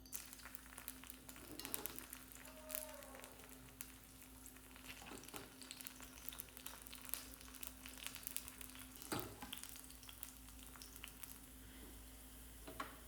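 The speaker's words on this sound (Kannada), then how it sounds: "ಒಗ್ಗರಣೆಗೆ ಎಣ್ಣೆ ಇಟ್ಟಿದ್ದೆ, ಮತ್ತು ಜಜ್ಜಿಟ್ಟ ಬೆಳ್ಳುಳ್ಳಿ ಸೇರಿಸ್ತೇನೆ." Crushed garlic hits hot oil for a tempering and gives a soft, steady sizzle, quiet and continuous, with a few faint stirring clicks.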